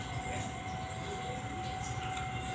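A train passing at a distance, heard as a steady low rumble and rolling noise with a faint constant tone above it, fairly quiet throughout.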